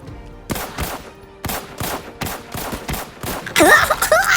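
Gunfire in the shooter game Arena Breakout: a series of sharp, loud shots in irregular bursts, each cracking out with a short tail, followed near the end by a denser burst with other game noise.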